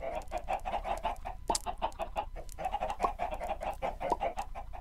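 Minecraft chickens clucking busily and continuously, a dense rhythmic stream of short clucks, close and moderately loud with no talking.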